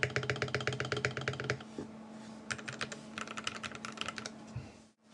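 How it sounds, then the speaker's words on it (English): Keys typed on a Nyaong 75, a top-mount 75% mechanical keyboard with O-ring gaskets and Gateron KS3 switches, producing fast, crisp clacking bursts, then a short pause and another flurry of keystrokes, close and alone. "Yeah, spacebar sounds nice."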